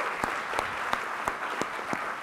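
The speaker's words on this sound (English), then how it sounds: "So why don't we just give a round of applause to Nancy and Jonathan" An audience applauds at a meeting on social entrepreneurship, a steady wash of clapping with a few sharper claps standing out, moderately close and with no voices over it.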